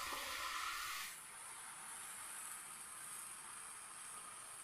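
A ladle of rice-flour dosa batter hits a hot pan and hisses, a soft steady sizzle that stays faint and even throughout, with no talking.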